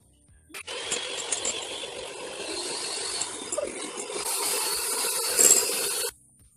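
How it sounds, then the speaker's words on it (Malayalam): Vivo Royal whipping cream being whipped with an electric beater, a steady loud whirring drone that starts abruptly, runs continuously and grows slightly brighter before cutting off. "നമുക്കിനി നന്നായിട്ട് ബീറ്റ് ചെയ്യാം."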